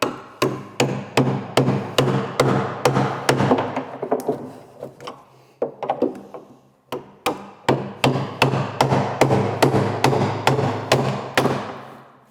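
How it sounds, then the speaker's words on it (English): A chisel is driven into a piano's wooden top board to loosen it, giving a long run of sharp, resonant knocks at a steady beat. The blows are close and loud, with a short lull partway through. "I can try and loose some of those fibres by getting right in there with a chisel"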